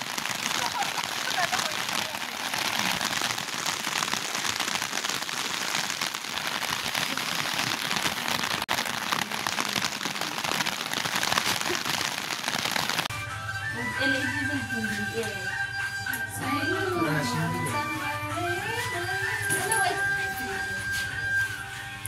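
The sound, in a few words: rain falling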